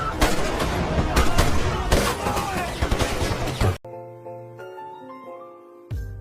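An action film scene erupts in a dense burst of gunfire and crashing impacts that cuts off abruptly into quiet music, followed by one last sharp hit.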